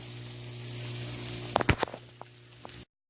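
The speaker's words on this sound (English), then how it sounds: "So now my onions and my bacon grease are sauteed." Onions in bacon grease sauté for loaded baked potato soup, a steady low sizzle with a few sharp pops and stirring knocks midway, then a sudden cut to silence.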